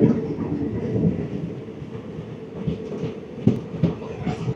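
A Vistadome train on the Jammu to Srinagar line rumbles along at speed, with a steady low roar from the carriage and a few sharper clacks and knocks from the wheels.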